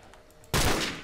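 Gunfire bursts out in a modded Minecraft game after a quiet start, a loud, dense volley that fills the last half-second, with no talk over it.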